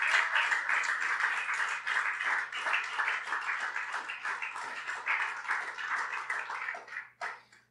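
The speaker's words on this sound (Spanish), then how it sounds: "Si usted quiere aplaudir, aplauda fuerte para el Señor." A church congregation claps loudly during a sermon, dense continuous clapping that holds steady for about seven seconds before tapering off abruptly.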